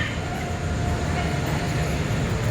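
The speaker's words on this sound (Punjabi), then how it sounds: "ਟ੍ਰੇਨ ਕਿੱਧਰੋਂ ਆਈ ਹੈ" A steady low rumble of a train rolls on continuously, with a faint whining tone carried over the heavy noise.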